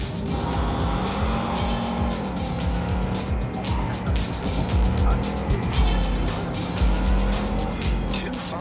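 A car in Cyberpunk 2077 driving hard with a loud, continuous engine roar and repeated tire squeals and skids, dense and up close throughout with no pauses.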